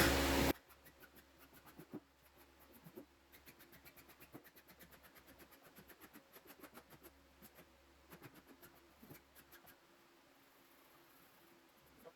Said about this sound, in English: Just take a regular old file, I'm just going to take it over the edges.